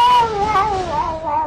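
A person imitates a cat's meow, drawing out a long, wavering, high-pitched mew close to the microphone with no other talk over it.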